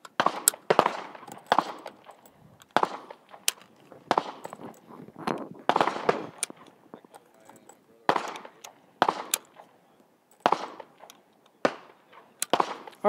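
Gunfire at an outdoor shooting range produces a steady series of sharp cracks at irregular intervals, some close and loud, others fainter and farther off, with no talking.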